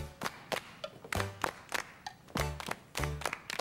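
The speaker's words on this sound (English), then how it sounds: "now it's going to be your turn to try the clapping part" Rhythmic hand claps, loud and close, strike in a steady beat alongside a song, with some claps landing heavier like thumps.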